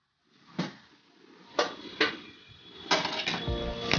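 Pressure cooker lid opened after the steam is released while making ven pongal, a series of sharp metallic clanks and knocks spaced irregularly, ending in a cluster of rattling clatter.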